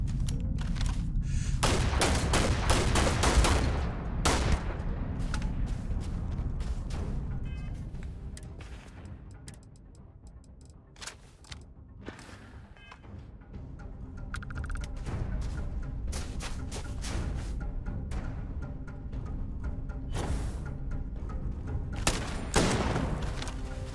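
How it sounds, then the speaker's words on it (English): A double barrel shotgun fires in Starfield amid a heavy firefight. Loud blasts come in clusters over a constant rumbling din, with a quieter lull midway before the shooting resumes. "Oh, it's a double barrel shotgun."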